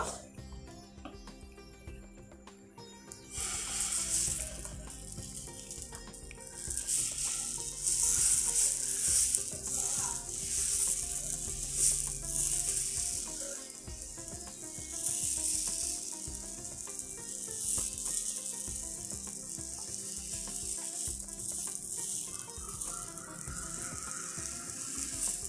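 Wheat rava adai batter goes onto a hot griddle, and after a quieter start a loud, steady sizzle takes over and holds. Faint scraping and spreading noises come through at close range.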